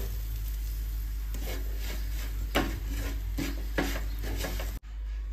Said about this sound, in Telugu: చేసుకున్న పుదీనా కొత్తిమీర రెండు మంచిగా కలుపుకోవాలి